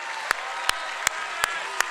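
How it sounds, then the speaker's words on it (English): A theater crowd at PAX East 2022 applauds a birthday in a steady, dense wash of clapping, with a few sharper, louder claps popping out at regular intervals. "can we give him one more round of applause for happy birthday?"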